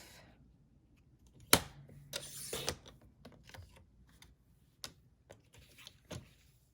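A paper trimmer slices cardstock for a card project: a sharp blade stroke followed by sliding, rattling clicks and a few lighter taps, close and fairly quiet with no talk.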